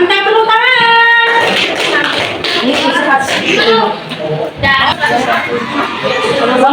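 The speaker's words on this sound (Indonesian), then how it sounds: "Mantap, tepuk tangan." A sixth-grade class claps together in a classroom, a dense patter of hands starting after a brief spoken voice and carrying on with chatter and murmuring mixed in.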